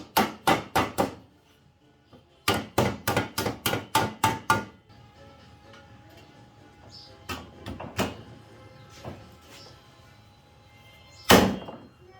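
Sharp knocks as end caps are tapped into the ends of stainless steel tubes on a wood-and-metal rocking chair built from pallet boards: a quick burst of four raps, a pause, then a faster run of about seven, with a few scattered louder hits afterward.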